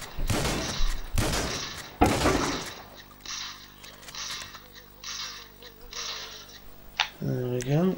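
In GTA V, a sawed-off shotgun fires three loud, close blasts spaced about a second apart. Each one booms with a short tail, and the last is followed by quieter clatter and game sounds. A voice speaks near the end.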